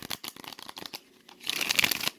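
A deck of tarot cards gets shuffled up close, with a run of quick riffling flicks followed by a denser, crisp burst of card slaps, and no voice over it.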